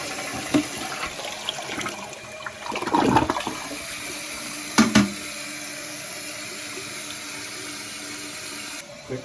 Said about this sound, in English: Let's go ahead and flush.